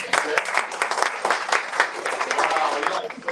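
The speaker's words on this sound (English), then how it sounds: "Can you clap?" Audience clapping at a tech demo night during a live event, a dense burst of many hands that rises and dips over a few seconds, with voices and crowd chatter mixed in.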